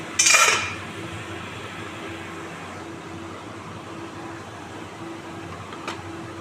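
A lid clatters onto a cooking pot once near the start, a short bright metallic knock, then steady quiet kitchen hum; the pot holds katla fish curry base with potatoes and added water.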